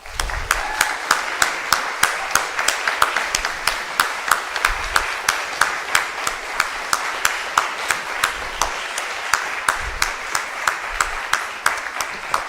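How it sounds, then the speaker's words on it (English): An audience at a spring regional meeting applauds retirees with steady, even, rhythmic clapping that carries on alone, fairly close and sustained. "so that as a region we can give you the applause"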